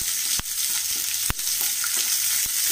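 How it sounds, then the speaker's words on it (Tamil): Onions sautéing in a pan with urad dal, cumin and mustard seeds, giving a steady close hiss of frying oil broken by a few sharp clicks of a spoon stirring against the pan. "நல்லா வதக்கி விடுங்க."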